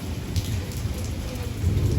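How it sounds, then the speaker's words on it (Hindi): Heavy rain pouring down in a city, a dense continuous hiss and patter with low rumbling underneath, loud and steady without pause. "देखें कितनी ज़बरदस्त बारिश हो रही है"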